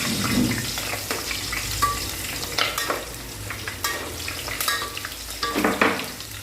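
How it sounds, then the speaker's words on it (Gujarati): Green chillies fry in hot oil for a Gujarati brinjal curry, giving a steady close sizzle with crackling pops and splatters throughout, alongside faint kitchen clatter. "તેલ ઉડે છે"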